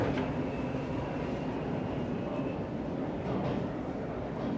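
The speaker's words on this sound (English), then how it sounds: "And it looks like I just missed a train." A steady, loud rumble of a subway train fills a Toronto Line 2 platform, with a faint high whine running through the continuous noise.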